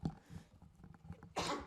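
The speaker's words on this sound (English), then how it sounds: "You announced that the sneeze was coming." A single sneeze bursts out at the end after a few soft breathy sounds, close and fairly quiet.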